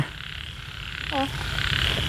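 A frog gives one short croak, faint and slightly distant, over steady rain and wind noise during a stormy night outdoors in rural Thailand.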